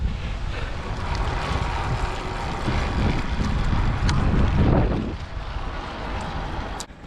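Steady wind roars and buffets against the microphone while cycling up Mount Buffalo, swelling louder in the middle and easing off near the end, with no voices.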